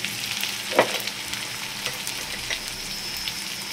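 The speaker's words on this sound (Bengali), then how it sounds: "এবার একটু টমেটো দিয়ে একটু ভাজা করতে হবে।" Chopped tomatoes frying with onions in a pan for a prawn do pyaza, a steady close sizzle with a few stirring scrapes and clicks of a spoon.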